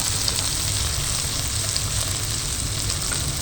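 Ground coriander, cumin and turmeric with grated ginger and tomato sizzle steadily in a pan as they are stirred, a close, continuous frying hiss with no talking.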